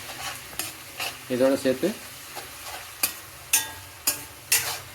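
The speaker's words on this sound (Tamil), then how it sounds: "इसके साथ हम लोग देखे थे अदरक और लहसुन का पेस्ट भी डाल के थोड़ा इसको कच्चा स्मेल जाने तक थोड़ा पकाइए" Ginger garlic paste sautéing in a pan for chicken biryani gives a low sizzle broken by sharp, regular scraping stirs that grow more frequent, while a voice speaks briefly near the start.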